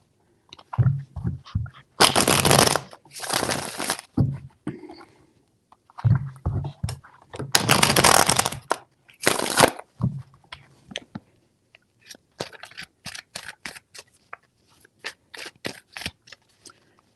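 Tarot cards are shuffled in several brisk bursts of riffling and flicking, with quieter taps and card handling between them.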